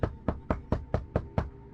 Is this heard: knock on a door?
yes